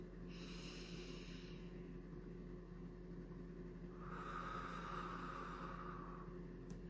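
Slow, deep breathing close to the microphone, a soft drawn-out inhale then a longer airy exhale over a low steady hum, no talking.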